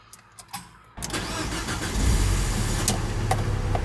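After a second of near quiet, a van's engine cranks and catches, then settles into a steady, close idle that swells slightly as it runs, with no one speaking.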